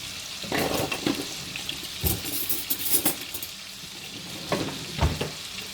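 Rosemary dropped into a hot pan beside a ribeye steak, sizzling and crackling loudly with bursts of spattering and occasional spoon scrapes, close and continuous.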